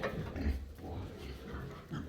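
Pigs on a Ukrainian pig farm grunt and oink in a steady, close jumble of low snorts, with a voice faintly mixed in under the animal noise.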